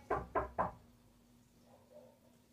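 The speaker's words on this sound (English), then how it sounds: "That's me knocking on the door." Three sharp knocks on a door in quick succession, fairly close and loud, followed by a quiet room with faint background noise.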